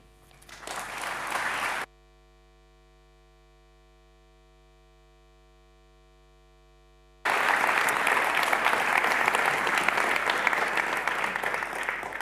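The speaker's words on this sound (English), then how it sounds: "Give her, please, another round of applause." Audience applause after a poet's talk at a Hague Talks event, heard as a short burst of clapping, then a silent gap under a steady mains hum, then loud, sustained clapping from a full crowd.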